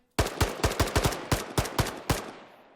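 Gunfire in a zombie war video game: a rapid burst of about a dozen loud, close shots in an uneven rhythm, each crack trailing off briefly, with no voices.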